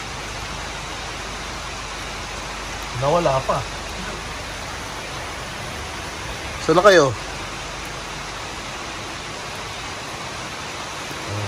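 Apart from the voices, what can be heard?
rain falling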